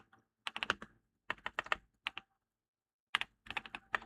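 Bursts of rapid key clicks from a new computer keyboard, close and fairly quiet, arriving in short irregular clusters separated by pauses, with no talking.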